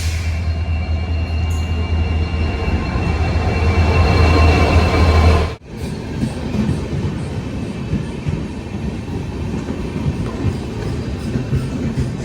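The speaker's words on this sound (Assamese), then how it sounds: "এয়া ট্ৰেইন পাই গ'লহি।" A train arrives, its loud, steady rumble and clatter filling the scene. The roar cuts abruptly partway through, then the heavy rolling noise of the rail cars carries on.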